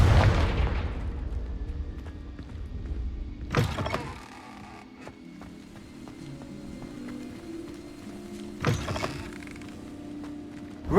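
Confringo blasting spell explosions in Hogwarts Legacy: a heavy booming burst at the start, then two more sharp blasts with crackling decay several seconds apart, over a low ambient hum.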